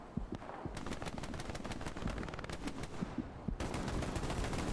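A machine gun fires from atop a barn during a Hell Let Loose firefight: a steady rapid rattle of shots, loud and continuous, with sharp bursts throughout and only a brief lull near the end.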